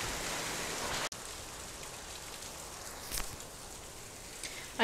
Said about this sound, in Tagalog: First time nito ngayon na ganito yung hail kalakas.